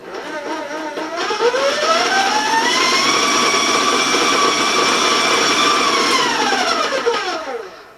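Electric hand mixer beating an egg into cookie dough in a bowl, spinning up to a loud steady whine that holds for several seconds before winding down, close by and with no talk.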